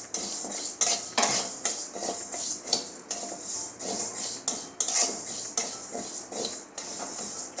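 Mung dal dry-roasting in a hot wok, stirred with a metal spatula in repeated scraping and rattling strokes about once a second, close and moderately quiet, no talk.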